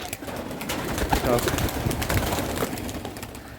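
Pigeons coo softly at a small window they use to fly in and out of a room, with low repeated calls mixed with a person talking nearby.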